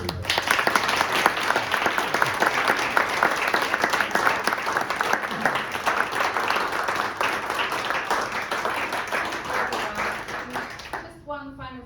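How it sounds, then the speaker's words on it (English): A long, steady round of applause from an audience at a councillor's speech event in Treorchy, dense clapping sustained at even volume for around eleven seconds before stopping abruptly. "it'd be pertinent to give Richard and Helen a big round of applause"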